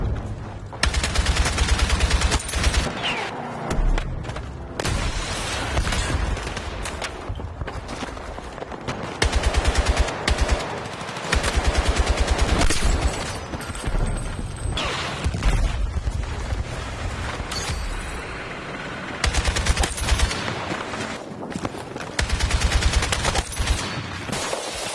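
Video game gunfire roars in long, dense automatic bursts with heavy booming shots, loud and close, nearly continuous with only brief pauses between volleys.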